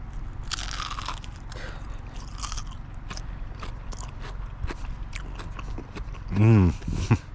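Crunching bites into crispy KFC Zinger chicken at the back of a camper van, several sharp close crunches and chewing sounds, ending with a short hum of voice.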